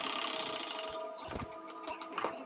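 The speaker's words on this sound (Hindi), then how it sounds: "तो चलिए यहाँ पे सिलाई कर लेते हैं।" A sewing machine stitches sleeves onto a designer suit, running in a steady continuous whir with brief dips and changes in pace, close and clear with no talking.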